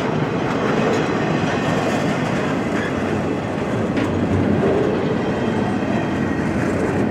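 A long CSX freight train rumbles steadily past, wheels clattering on the rails in a continuous, even roar with no voices.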